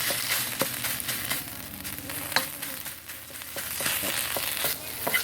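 Finely pounded Thai chili curry paste with turmeric and prepared quail meat stir-fry in hot oil for a dry spicy dish. A steady close sizzle runs throughout, broken by sharp clicks and scrapes of the spatula.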